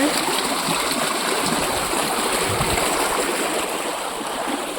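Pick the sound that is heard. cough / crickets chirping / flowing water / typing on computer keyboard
flowing water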